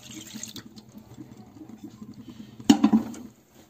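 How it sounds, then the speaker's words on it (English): Milk pours into a pan already used for cooking pudding: a soft, low patter of liquid, then a sharp metallic clatter of the pan near the end before the sound stops. "So into this I'm going to add the milk,"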